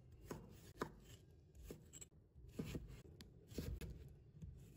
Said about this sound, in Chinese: 再切成厚片， 再切成条，